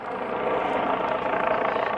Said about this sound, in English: Helicopter still.